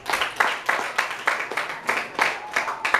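An audience applauds a speaker at a school debate on violent video games, with steady clapping and rhythmic bursts of hand claps sustained throughout at moderate loudness.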